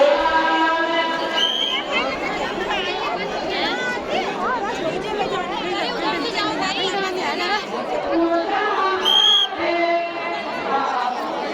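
A dense crowd at the historic Hill Jatra fair in Kumod, Pithoragarh, chatters loudly all around. Many overlapping voices form a thick, continuous babble, with a close speaker and brief sharp tones rising above it now and then.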